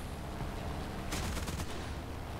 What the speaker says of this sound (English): He's just using machine guns to get aim up.